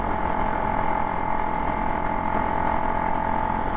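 A 2020-2022 KTM Duke 390 motorcycle fitted with a Powertronic ECU runs with a steady engine drone and a strong low hum, even and continuous throughout, with no talk over it.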